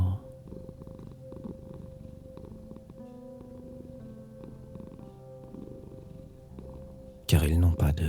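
A cat purrs softly and steadily in a low rhythmic rumble, faint and continuous, with a calm voice speaking over it for most of the clip and growing louder near the end.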